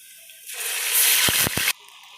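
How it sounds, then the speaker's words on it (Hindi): Water is poured into a cooking pot with garlic-ginger paste for basmati rice, a steady loud hissing rush for about a second, with a few brief clunks near the end before it stops abruptly. "इसमें डालूँगी पानी चावलों के मुताबिक"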